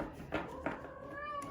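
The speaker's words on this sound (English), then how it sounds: "That is my cat, Kiwi, coming to say hello." A domestic cat meows indoors: two short chirping calls followed by a longer, rising meow, fairly close and soft in a quiet room.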